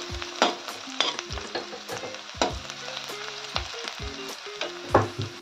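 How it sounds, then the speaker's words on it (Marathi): Onion sautéing in a pan for a shengole curry, with a steady oily sizzle broken by repeated scraping stirs of a spoon against the pan, close up and with no talking. "हे बघा, छान लाल होईस्तोवर परतून घेऊया."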